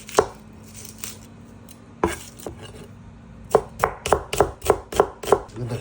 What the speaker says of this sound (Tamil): இந்த கழுவின பச்சை மிளகாயை கொஞ்சம் இப்படி நீட்டாக வெட்டுங்க